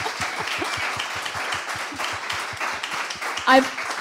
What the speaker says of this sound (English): So, big applause again.